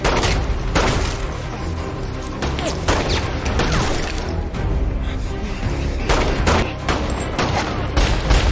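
Dense gunfire fills a film shootout scene as police open fire, with rapid overlapping shots and heavy booms forming a continuous loud barrage throughout.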